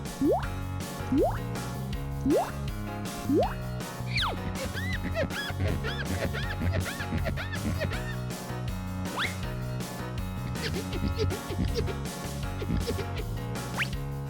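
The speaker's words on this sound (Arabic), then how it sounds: "ما بنساش ابدا اغسل ايدي" Hands are washed under running water in a cartoon Rapunzel makeover game, with bubbly drips, squishes and splashes repeating over light background music.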